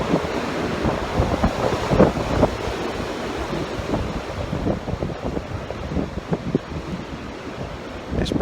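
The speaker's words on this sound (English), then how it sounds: "You can probably hear the wind blowing around outside." Strong storm wind roars and gusts steadily around a farm, with a low rumbling buffet across the microphone throughout and no voices.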